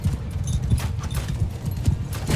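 Armored horse galloping in the video game Mount & Blade 2: Bannerlord: rapid rhythmic hoofbeats with metallic clatter in a battle, close and steady, mixed with faint background battle noise.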